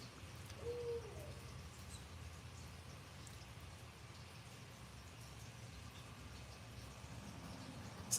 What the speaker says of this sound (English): It's owls out there.